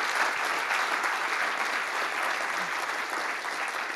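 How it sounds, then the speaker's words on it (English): An audience at a Python and deep learning conversational AI talk claps throughout, a dense, steady round of applause from a crowd. "Can everyone please give a big round of applause to David?"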